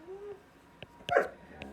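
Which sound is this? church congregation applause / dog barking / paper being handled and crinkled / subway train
dog barking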